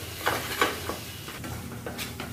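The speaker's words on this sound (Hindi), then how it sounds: "फ्लेम मीडियम रख के अच्छे से थोड़ा से मिक्स कर लीजिए।" Pasta masala stirred in a pan over a medium flame: a soft sizzle under repeated scraping and clinking strokes of a spoon against the pan, close and fairly quiet.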